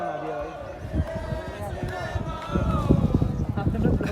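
A dense crowd of visitors murmurs and shuffles at Bhangarh Fort, a steady near wash of many voices and footsteps that thickens toward the end, with someone talking over it.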